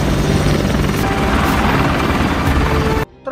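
A combat helicopter in an action film drones loudly and steadily with a thick rotor throb for about three seconds, then cuts off abruptly into near silence.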